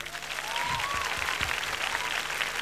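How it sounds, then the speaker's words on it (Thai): Concert audience at the My Days show applauds a dance choreographer, a broad wash of clapping and crowd noise with a few low thumps and a faint gliding tone early on. "ขอเสียงปรบมือให้กับพี่อู๋ค่ะ"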